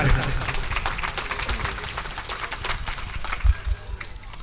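Audience applause at a Pala performance, the Odia folk-theatre stage event: a steady patter of many hands clapping, moderately loud, with some low thumps.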